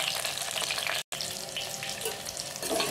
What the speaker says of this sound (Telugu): మన రుచికి సరిపడినన్ని పచ్చిమిర్చి వేసి వేయించుకోవాలి.